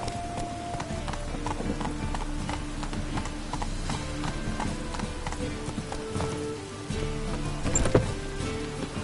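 Roach, the horse in The Witcher 3, gallops with a steady, fast clip-clop of hooves throughout, fairly close and continuous, with a brief louder thump near the end.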